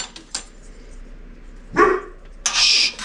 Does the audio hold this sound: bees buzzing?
no